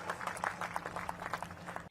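Applause from a crowd at a political rally in India, a dense steady patter of clapping heard from a distance, fairly faint, continuing evenly without any voices over it.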